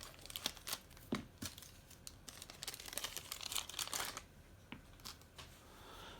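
Plastic packaging on a D&D Icons of the Realm miniature figure box is opened with scissors, giving faint, close crinkling, tearing and snipping in irregular bursts.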